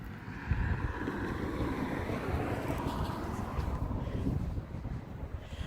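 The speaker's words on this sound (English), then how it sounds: "Sorry about the road noise." Steady rumbling road noise, a broad wash of traffic and wind blowing past a parked Ford Escape set up for camping, continuous and fairly close with no clear voices.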